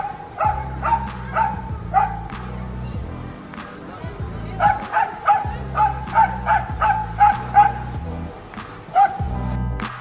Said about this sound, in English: A smart and protective dog barking at cars to keep them away from the crossing.